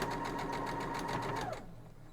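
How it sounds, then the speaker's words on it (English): Sewing machine stitching a quilt block seam corner to corner, a fast steady whirring hum of close stitches that stops abruptly after about one and a half seconds. "we're going to go sew that down corner to corner just like the last one"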